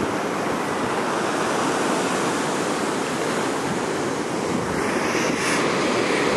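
Ocean surf on Palolem Beach in Goa, India, washing in as a continuous broad roar of breaking waves that stays loud and even throughout, with no voices.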